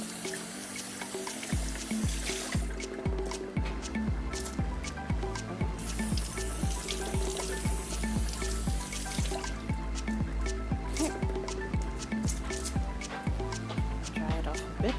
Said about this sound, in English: and then I'll rinse this out